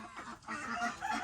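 Chickens on a farm give a few quick, faint clucks in a brief burst, heard close but quiet with no talking.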